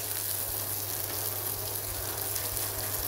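Chopped onion fries in hot oil in a pan for a dal tempering, giving a steady, dense sizzle and crackle that holds evenly throughout with no talking.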